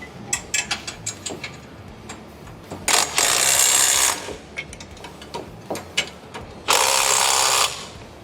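A Harley-Davidson Sportster engine's mount bolts are tightened on a Led Sled frame: scattered light clicks and taps, then two loud sustained bursts of a power tool, each about a second long, close by.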